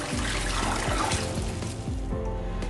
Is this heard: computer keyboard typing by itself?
no